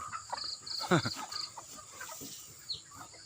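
Chickens cluck in short bursts at a rural mountain home, with brief squawks and faint rustling nearby; a person's voice is faintly heard in the background.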